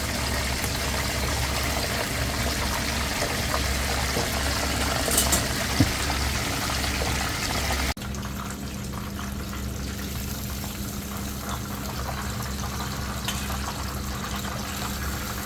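Mackerel deep-frying in hot oil until crispy, a steady dense sizzle and bubbling that runs continuously, loud and close, with a slight drop in level partway through and no talking.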